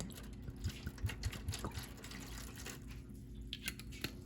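White wine is poured into a pork tenderloin marinade, giving a soft, close, steady liquid trickle with small splashy gurgles, fairly quiet and without talk.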